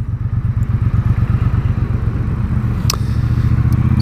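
A Triumph Bobber motorcycle engine runs at low RPM with a steady, deep, even thump, loud and close, holding smooth throughout with a brief click partway.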